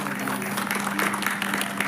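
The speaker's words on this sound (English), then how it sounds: "a good round of applause for her" Brief applause from an audience at an annual felicitation ceremony of a deaf society, a dense burst of clapping over a low steady hum.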